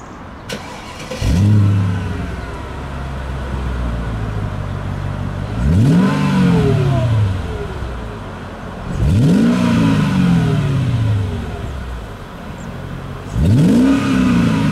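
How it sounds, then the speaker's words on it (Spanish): A Mercedes SL500 engine revs up loudly in four separate bursts, each rising and falling in pitch, with a steady idle rumble between them and no talking. "vamos a escuchar cómo suena este coche"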